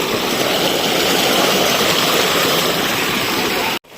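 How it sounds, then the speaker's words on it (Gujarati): Running water pours steadily from a tap while a mango is washed under it, a loud, continuous splashing rush that cuts off abruptly near the end. "અહીંયા પાણી જે ચાલુ હોય ને એમાં ધોઈ અને પછી આપણે ખાઈ"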